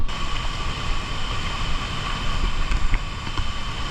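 Wind and rushing water buffet a bamboo raft on a river near Pagsanjan Falls, a loud, steady roaring rumble with no talk over it.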